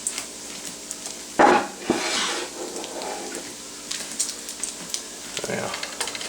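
Bacon swiss mushroom burger patties sizzle in a pan with a steady frying hiss, broken by the scrape and clank of utensils against cookware.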